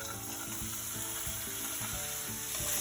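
A corn mixture sizzling in extra virgin olive oil in a pan, a constant bright hiss with a soft rhythmic clatter of stirring over it, close and fairly quiet.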